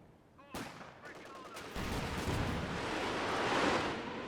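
Gunfire from a Bofors gun in Company of Heroes 2, one sharp shot followed by bursts of rapid firing that swell into a loud, dense roar of battle.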